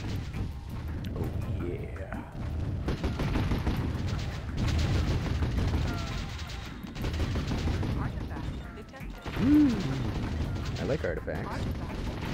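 Mortar blasts and rattling gunfire sound from the real-time strategy game Warzone 2100, with dense, continuous explosions and bursts of shots while someone talks over the battle.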